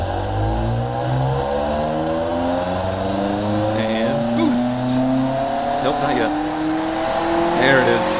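Powerful car engine in the game Automation revving hard and climbing steadily through its range with rising whine and tire noise, loud and continuous, with talk over it.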